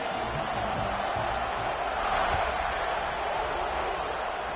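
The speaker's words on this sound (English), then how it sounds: "this crowd is buzzing after that last score" Stadium crowd in the College Football 26 video game, a steady distant murmur and buzz of many voices with low rumble underneath, fairly faint throughout.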